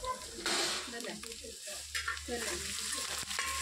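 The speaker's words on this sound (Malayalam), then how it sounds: "ഇനി ചെറുതായിട്ടൊന്ന് മൂപ്പിച്ചെടുക്കാം." Ginger sautéing in a pan for a beef curry, a close sizzle with stirring scrapes and some pan contact, fairly faint overall with a low hum underneath.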